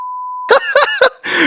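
A steady censor bleep tone plays alone at first, then gives way to a man's loud, rapid comic voice imitating the bleep in short repeated bursts.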